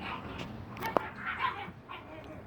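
Young puppies at a kennel whimper and yip softly, several brief high squeaks and whines scattered over a quiet, noisy background, with no speech.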